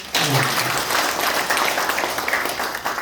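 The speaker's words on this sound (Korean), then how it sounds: "같이 한 번 박수 한번 보내드릴까요?" A Korean town gathering applauds an elderly former suicide-squad veteran, a sudden, loud, dense burst of clapping from a crowd, steady and close throughout the short stretch.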